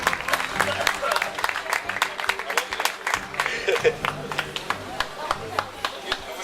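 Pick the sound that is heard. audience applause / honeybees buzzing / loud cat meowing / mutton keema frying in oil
audience applause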